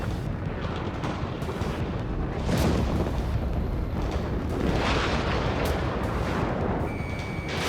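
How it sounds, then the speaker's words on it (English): A missile strike explodes in the video game Ace Combat 7, a heavy, sustained roaring rumble that swells twice amid continuous jet and battle noise. "Strider 2 struck by a missile"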